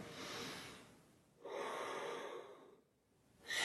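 A deep yoga breath drawn in while seated with fingertips on the floor behind, chest lifted: long airy breathing swells that rise and fall, close and alone without talk.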